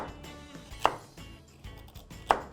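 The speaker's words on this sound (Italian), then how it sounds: "Taglio a tocchetti il sedano, poi le carote" Knife cutting celery and then carrots into chunks on a board for an Italian seafood salad, a few quiet, separate chops with two sharper strikes standing out.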